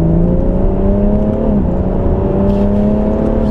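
BMW M140i straight-six engine pulling hard in sport manual mode during a spirited drive, a loud steady drone with a continuous whir that climbs slightly in pitch, dips briefly mid-run, then carries on rising without a break.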